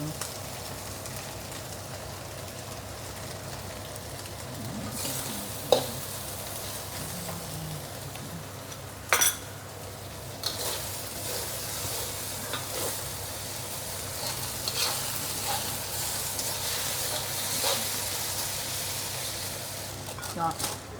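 Malaysian mee goreng noodles with egg sizzle in a hot wok while being stir-fried, a steady hiss broken by occasional clanks of the spatula.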